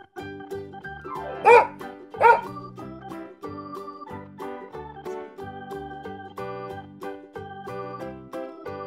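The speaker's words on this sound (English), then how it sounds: "Dog." Two loud dog barks, about a second apart, stand out over steady cheerful background music, with no talking.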